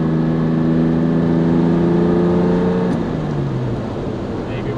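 Jaguar E-Type Coupe on Finger Lakes backroads, its engine humming loud and close at about 48 mph, a sustained tone that drops in pitch as the car eases off partway through.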